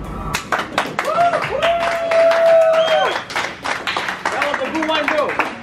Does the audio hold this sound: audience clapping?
yes